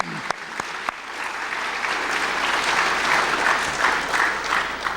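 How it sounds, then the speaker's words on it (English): An audience applauds at a Boy Scouts Del-Mar-Va Council Distinguished Citizen Award ceremony, producing sustained, fairly close clapping from a sizable crowd that holds steady for several seconds. "Let's give them a round of applause"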